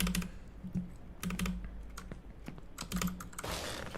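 Computer keyboard typing while playing Only Up, sharp clustered key clicks in short bursts with pauses between, close and fairly clear.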